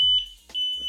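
An electronic refrigerant leak detector, checked on an air-conditioning unit, gives sharp, steady high-pitched beeps, one long tone broken by a short gap and then repeating, close and fairly loud.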